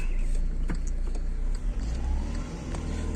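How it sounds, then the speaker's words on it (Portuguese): A car driving down and moving off, with a steady low engine rumble close by, a brief dip partway through and a few faint clicks and knocks. "Olha lá, desceu, o carro desceu."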